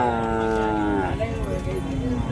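Cattle mooing at a busy bullock market, with long, loud, close low moos layered over one another and crowd murmur beneath.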